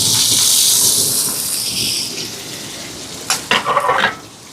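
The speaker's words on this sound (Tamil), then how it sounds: "இப்போ இதெல்லாம் நல்லா வதங்கட்டுங்க." Onions, chillies and curry leaves sizzle loudly in hot oil, a steady bright hiss that eases off before a few sharp crackles and spits near the end.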